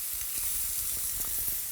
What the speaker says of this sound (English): Grill the kalbi-kui, the butterflied beef ribs, until sizzling and golden brown on the bottom.